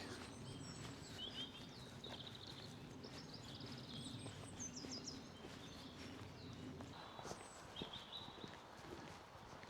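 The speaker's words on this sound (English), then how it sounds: "Bird music." Birds chirp and sing in short bright bursts in a forest over a low rumble and steady hoof-like clopping, fairly distant and soft.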